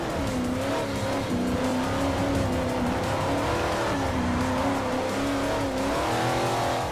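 A race car in Forza Motosport 4 drives steadily, its engine holding a loud, continuous drone with slight pitch wobbles, tire noise blended underneath, with no voices.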